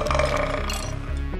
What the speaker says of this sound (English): The man starts burping and farting abnormally.